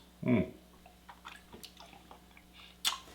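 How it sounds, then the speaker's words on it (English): Close, quiet mouth sounds as a sip of Koval bourbon whiskey is swished and chewed through the teeth, one louder wet squish at the start followed by soft clicks and slurps. "I'm chewing on it a little bit, which is literally kind of hydraulically working it through your teeth"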